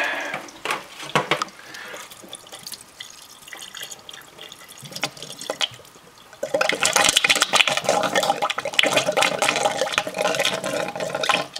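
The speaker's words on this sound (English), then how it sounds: "what you can do is just take the end of your hose and blow on it" Water sputters and gushes as someone blows it out through the end of a homebrew wort chiller hose: a quieter trickle first, then a loud, steady rushing spray that lasts to the end.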